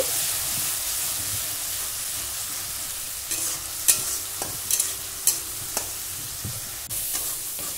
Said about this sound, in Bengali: এখন পেঁয়াজটা একটু ভেজে নিচ্ছি।